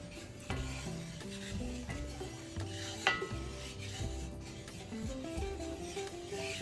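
A spoon stirs a roux for gumbo in a pot, scraping and rubbing steadily against the bottom with a faint sizzle, plus an occasional sharper clink, close and without speech, over a continuous musical background.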